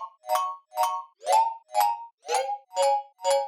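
A synthesized bell with pitch bend, stereo spreading and reverb, struck in seven evenly spaced tones about half a second apart, each bright metallic hit bending slightly in pitch before a short ringing decay, clear and alone.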